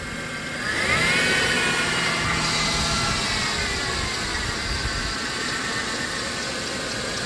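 A 2000 Chrysler Grand Voyager SE minivan engine idles steadily with a low rumble and mechanical whine, its rhythm turning rough and uneven as it begins to stumble and misfire.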